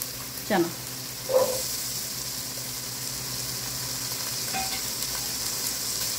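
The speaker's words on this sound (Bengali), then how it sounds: "মশলাটা একটু কষিয়ে নিব" Spices and fried onions sizzle in a pan for kabuli chana pulao, a steady frying hiss with a couple of sharp clinks of a spoon stirring near the start and a brief clatter midway.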